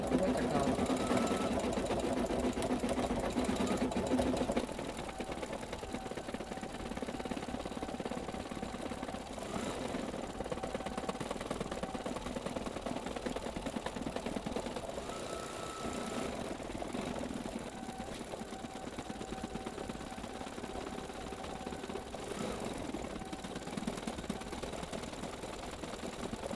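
Embroidery machine stitching segments of a haunted house quilt block, a continuous close mechanical whirring with rapid needle chatter, louder at first and then steady, with speech at times.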